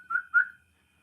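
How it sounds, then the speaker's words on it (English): A person whistles two short, rising notes in quick succession, close and fairly soft, followed by silence. "That was not a clean whistle, but I tried."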